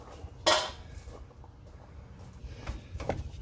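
A metal drain pan is picked up and handled in a garage during power steering work on a Honda Ridgeline V6, giving one sharp clank followed by faint scattered knocks and scrapes.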